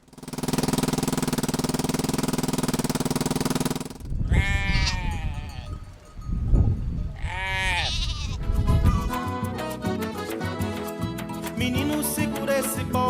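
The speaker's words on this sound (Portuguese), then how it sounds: "Menino, segura esse bode." Goat bleats, several wavering calls in a row, cut in after a steady engine-like drone and followed by music playing underneath.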